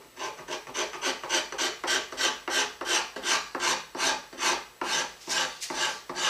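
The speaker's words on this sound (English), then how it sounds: "I don't want to leave it without sanding it" Rhythmic back-and-forth rasping of sandpaper on rough wood, about fifteen steady strokes close up, with no voices.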